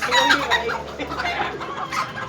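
A chicken clucks and squawks in quick, busy bursts, fairly close, with a constant murmur of background noise.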